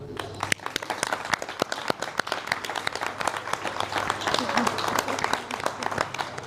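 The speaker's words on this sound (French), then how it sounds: "Est-ce qu'on peut les applaudir ?" An audience gives sustained clapping for the young volunteers at an event, with dense, fairly close applause continuing steadily throughout.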